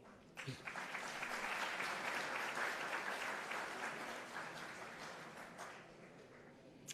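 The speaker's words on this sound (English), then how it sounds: "I was going to request you for a huge round of applause, but I think that's been done" Audience at a leadership talk featuring Narayana Murthy gives sustained applause, a dense wash of clapping that swells early and slowly fades toward the end.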